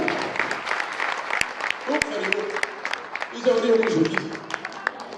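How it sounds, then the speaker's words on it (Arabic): An audience at a training event claps for several seconds, uneven hand claps with louder bursts near the end, while a voice speaks over the applause. "تصفيق على ريم"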